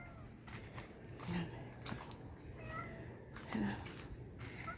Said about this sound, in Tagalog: Pusa ito ng kapatid ko eh.